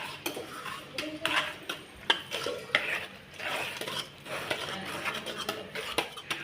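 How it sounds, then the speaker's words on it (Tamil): Metal utensil scraping and clattering against a pot while mashing cooked greens, with repeated stirring and mashing strokes at close range, no talking. "கீரை கடைஞ்சிட்டேன் இதை மூடி வச்சிடலாம்"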